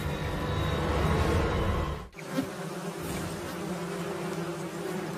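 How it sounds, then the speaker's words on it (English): Carnivorous rainforest wasps buzz through the air in a dense, loud swarm that drops away after a brief break, then returns as a steadier, thinner hum of several insects flying close by. "Squadrons of carnivorous rainforest wasps take to the air."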